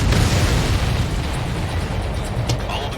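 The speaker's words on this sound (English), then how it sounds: "All of the missiles have been destroyed." Missile explosions in the air-combat game Ace Combat 7 make a dense, continuous roar of loud booms and rumbling blasts across the whole stretch, with no clear gaps between them.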